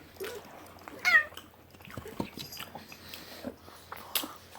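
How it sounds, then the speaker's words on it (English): A house cat gives a single short meow near the start, followed by faint scuffling and small clicks in a quiet room, with no talk. "That was a cat."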